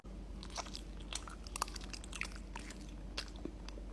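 Breadfruit is bitten and chewed close to the mic in a string of soft, crisp crunches and moist mouth sounds over a faint steady hum, with no talking.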